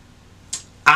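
Two quick duck quacks ring out during a duck hunt, a faint first call followed by a louder, nearer squawk, sharp and isolated against a quiet background.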